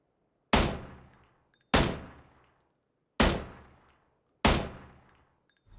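Four separate loud gunshots in the PUBG battle royale game, each a sharp crack with a ringing decay, spaced roughly a second or more apart.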